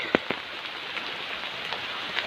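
Steady rain hissing on a surface, with a few sharper droplet taps standing out near the start and scattered through the rest.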